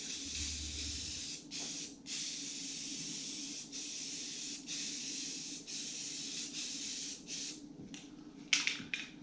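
Primer is sprayed onto signs from an aerosol can in a string of soft hissing bursts separated by short pauses. A low hum sits underneath, and a small clatter comes near the end.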